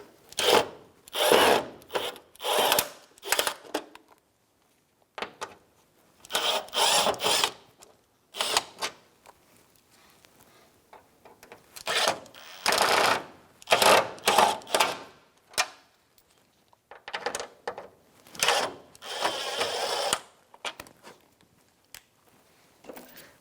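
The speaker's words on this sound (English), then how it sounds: "Remove 5 mounting screws for the grill." Phillips mounting screws being removed from the grille of a 1992-1996 Ford F-150, heard as repeated close bursts of ratcheting, scraping turns separated by short pauses.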